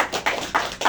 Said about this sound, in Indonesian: Tepuk tangan dulu kita semua kalian.